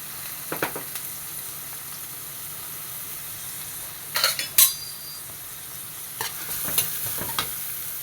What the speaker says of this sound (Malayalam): അതിലോട്ട് ഒരു വലിയൊരു സവാള കട്ട് ചെയ്തിട്ട് കൊടുക്കാം